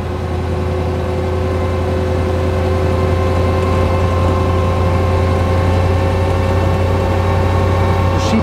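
A 1935 Bugatti Type 46 S supercharged eight-cylinder cabriolet engine pulling uphill, a steady, smooth low hum with a constant tone, heard close and uninterrupted with no talking.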